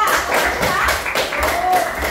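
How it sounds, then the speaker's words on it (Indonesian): A classroom of students applauds a classmate after a correct answer in a lesson on the respiratory system, dense steady clapping filling about two seconds at moderate loudness with background murmur. "Tepuk tangan untuk Maulida."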